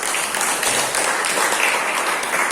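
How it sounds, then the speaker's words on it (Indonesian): Classmates applaud a student group at the close of a school lesson, a steady wash of clapping that holds at an even, fairly loud level for its whole length with no voices over it. "Beri tepuk tangan untuk kelompoknya Willy."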